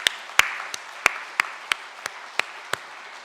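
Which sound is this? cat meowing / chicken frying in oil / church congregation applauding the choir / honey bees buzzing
church congregation applauding the choir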